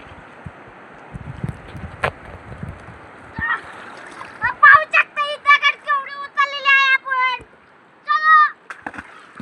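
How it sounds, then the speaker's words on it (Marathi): Water is splashed at people on a river in a few soft splashes and slaps, followed by loud, excited voices calling out nearby. "हा असा पाणी टाकतो आणि आम्हाला भिजवतो असा"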